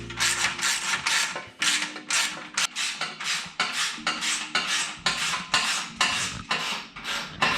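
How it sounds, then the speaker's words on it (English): A 9/16 ratchet loosens exhaust bolts on a 2020 Harley Low Rider S during a Vance and Hines slip-on install. Steady, rhythmic ratcheting strokes repeat quickly and closely for the whole stretch, with no talk. "I'm gonna take my ratchet, my 9/16. I'm gonna unloosen this up right here."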